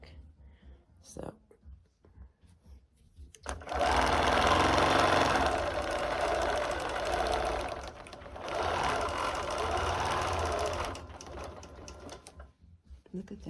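A sewing machine stitches plaid fabric in two long, steady runs of fast mechanical whirring, with quiet pauses and handling noises before, between and after.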